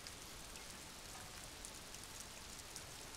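Rain falls steadily over the city of Revachol in the video game Disco Elysium, a soft, even patter with scattered drips throughout and no voices.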